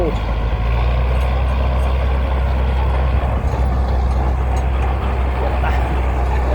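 Caterpillar D6D bulldozer with a six-cylinder turbo engine running steadily, a loud continuous low diesel rumble that stays even throughout, with someone speaking over it.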